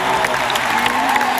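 An audience at the Beachbody Coach Summit breaks into loud, dense applause with some cheering, a brief close wash of clapping from a large crowd.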